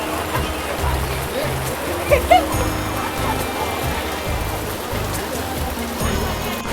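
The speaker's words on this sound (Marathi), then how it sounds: "असा पाऊस चालू आहे" Rain falls steadily at Bhimashankar temple, a continuous soft patter and hiss on surfaces throughout, with low rumbling background noise.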